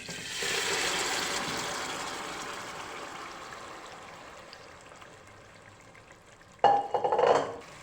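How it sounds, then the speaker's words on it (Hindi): Roasted mutton for gosht tahari goes into a cooking pot, with a steady sizzling hiss that slowly fades before a short, louder clatter and rustle near the end. "तो इसमें ये डाल देंगे गोश्त भुना हुआ।"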